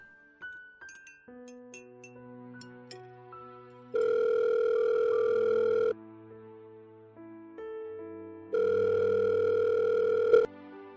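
A telephone rings in two long electronic bursts, each about two seconds, with soft steady tones between them in a quiet domestic setting and no talk.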